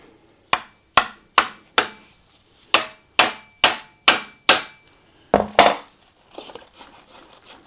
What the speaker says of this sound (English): Let's do the screwdriver again. I'm just using this to split the clamp apart.